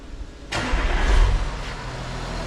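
An Audi A7 3.0 TDI diesel with a custom exhaust and no DPF starts up close by: a sudden crank and catch, a brief low rumbling flare, then a steady idle.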